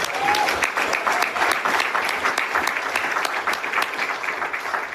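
Warm round of applause from an audience at an AA conference in Bermuda, steady crisp clapping filling the hall for several seconds without talk.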